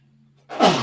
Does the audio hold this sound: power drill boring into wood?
no